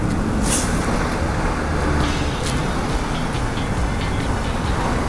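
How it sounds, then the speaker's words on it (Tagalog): Heavy trucks pass on a busy road, a continuous loud rumble of engines and tires with brief hissing swells as vehicles go by close to the listener. "Ang galing-galing ng mga truck."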